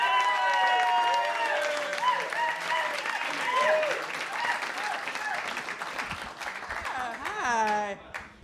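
Audience applause at a comedy club, dense steady clapping with scattered whoops and cheers that swells near the end before fading.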